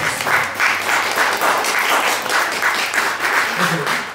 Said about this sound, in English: Can you give the authors and contributors a round of applause?